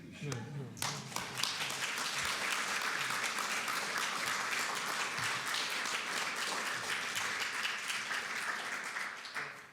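Audience clapping after a literary lecture, dense sustained applause from a crowd in a hall, steady throughout and tapering slightly at the end.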